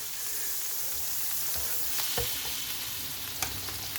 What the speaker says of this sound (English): I'm going to start cooking the egg here